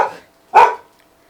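A pet dog gives a single loud, close bark in a quiet room, with a short earlier burst of sound just before it.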